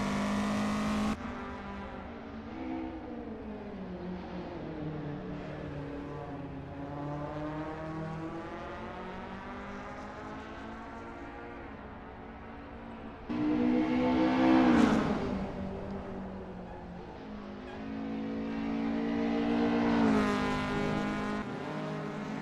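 Race car engine in Assetto Corsa on an outlap at Circuit Charade, a sustained whine rising and falling through gear changes and revs, swelling louder twice as it accelerates hard, heard alone.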